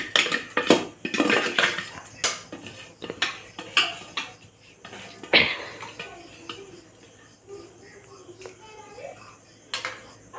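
Washed rice tipped into a cooking pot with dal for a vegetable khichuri, with sharp metallic clatter and knocks of utensils against the pot early on, then quieter scattered clinks.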